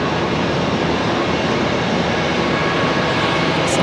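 A Boeing 787 Dreamliner at Charlotte Douglas International Airport gives off a loud, unbroken, even roar for the whole span.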